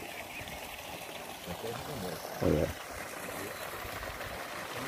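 Water pours down into an outdoor fish tank to aerate it, a steady trickling stream with a brief louder splash midway, while someone speaks briefly.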